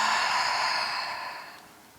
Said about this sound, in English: Deep breath into your nose and even slower exhale out.